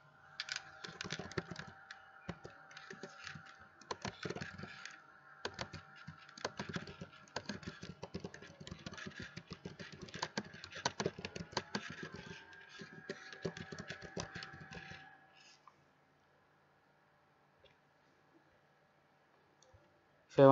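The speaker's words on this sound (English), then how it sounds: "I am typing." Typing on a computer keyboard during an online session: dense, quick key clicks for about fifteen seconds, close and fairly faint, then near silence with one final click.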